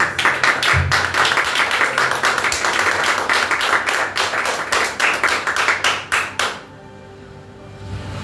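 A church congregation at a prophetic conference service claps in a fast, steady rhythm, many hands striking together loudly, before the clapping stops abruptly near the end, leaving quieter room sound.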